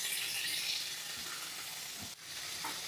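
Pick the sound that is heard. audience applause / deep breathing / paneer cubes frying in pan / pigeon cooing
paneer cubes frying in pan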